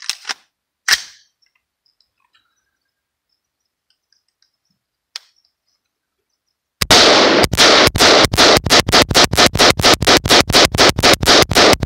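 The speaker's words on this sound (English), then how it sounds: "First time shooting it with the upgrades, with the new handguard and the new forward grip" A Bushmaster QRC rifle with a new handguard and forward grip empties a 40-round P mag in a rapid string of loud, sharp shots after a few scattered clicks and handling noises and a long quiet pause.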